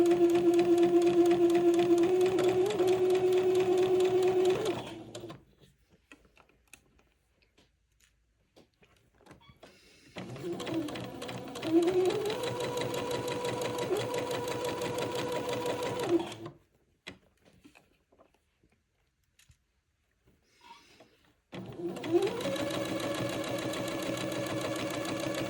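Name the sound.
sewing machine stitching a seam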